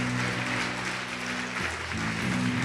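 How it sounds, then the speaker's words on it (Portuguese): A church congregation applauding: a dense, steady wash of clapping from many hands, moderately loud, over sustained music and voices. "Pode aplaudir, glorificá-lo,"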